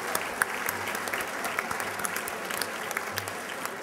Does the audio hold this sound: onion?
no